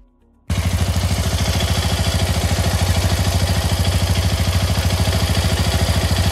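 A 2025 Hero Xpulse 210 motorcycle, with a liquid-cooled 210cc single-cylinder four-stroke four-valve engine and a side cooling fan, starts and settles into a loud, close, steady idle with an even rapid thumping pulse and no talk.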